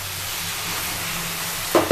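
Minced meat with peas cooking in a pan, an even hissing simmer held steady and close, with a couple of louder bubbling pops right at the end.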